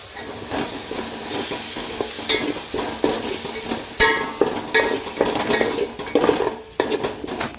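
A ground spice paste with coriander goes into a hot pan and sizzles steadily while a utensil scrapes and clinks against the metal in quick, repeated strokes, close and fairly loud.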